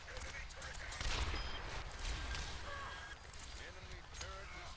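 Rapid gunfire crackles in Overwatch during a firefight, sharp repeated shots and impacts under constant in-game noise and chatter, with a player talking over it.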